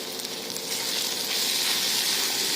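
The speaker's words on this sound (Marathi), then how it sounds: "सर्व मिश्रण छानसं परतून घ्यायचं" Vegetable pulao mixture with Kashmiri red chilli sautéing in a hot kadhai, giving a steady, close sizzle that swells louder partway through and holds as a continuous frying hiss, with no talking.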